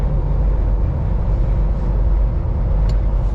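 Steady low road rumble and tire drone fill the cabin of a 2021 Jeep Gladiator Mojave pickup cruising at highway speed, constant and moderately loud with no talking over it.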